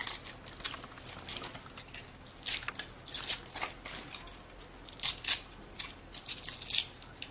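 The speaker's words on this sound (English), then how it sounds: "Then you just pull this aluminum foil." Aluminum foil is pulled off a prosthetic impression, giving faint, close crinkling and crackling bursts in an irregular rhythm with no speech.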